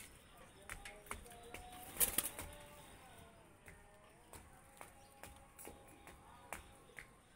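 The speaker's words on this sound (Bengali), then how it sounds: "দুইটা কবুতর আমি ছেড়ে দেখাচ্ছি" Pakistani pigeons let loose, with a burst of wing flapping near the start followed by scattered soft shuffles, coos and small clicks against a quiet background; faint talk may sit underneath.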